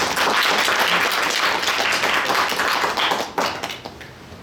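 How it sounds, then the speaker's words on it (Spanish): Applause from the audience at a live Spanish-language podcast recording, a steady wash of many hands clapping that holds loud and dense for most of the stretch before thinning out toward the end. "el saludo y el aplauso también para Marcelo"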